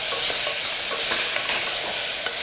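Chopped tomatoes sauté in a pan for moong dal sambar, giving a dense, even hiss of sizzling with faint spatula taps and stirs throughout, no one speaking.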